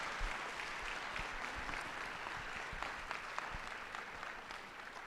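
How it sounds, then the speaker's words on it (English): A comic con audience claps for the X-Men '97 panel at Soda City Comic Con, a dense, steady patter of many hands heard from a distance and fairly faint, sustained for the whole stretch. "Let's give them a big round of applause for being here again."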